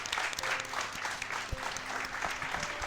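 An audience applauds at an in-person speedrun festival, a steady patter of many hands clapping, fairly soft and continuous throughout.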